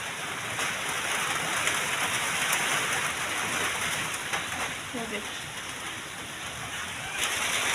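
Heavy rain pours onto a roof in a steady, dense hiss that stays loud and unbroken, with faint drips standing out briefly.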